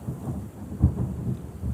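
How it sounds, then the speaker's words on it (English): Thunder rumbles with rain in the video game Terra Nil, a low roll swelling to one deeper boom partway through over a steady wash of falling rain. "The rain clouds are brewing."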